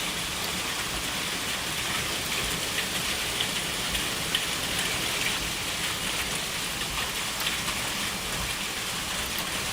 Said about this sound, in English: I like listening to it hit the metal.